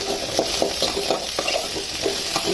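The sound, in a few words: shallots, ginger and garlic frying in oil in a pan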